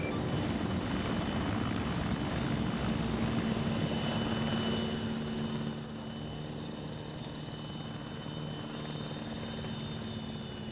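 Mi-8 transport helicopter in a modern-day military video game, its steady rotor thump and turbine drone loud and continuous throughout, easing slightly partway as it moves off.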